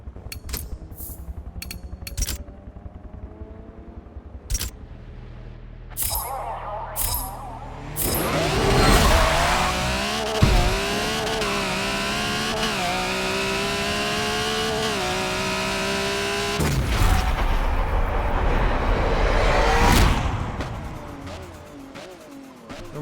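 RWD car making a drag run in a racing video game with a default tune, the engine climbing in pitch through each gear and bouncing off the rev limiter, loud and continuous before it dies away with a few short blips.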